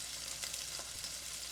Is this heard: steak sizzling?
yes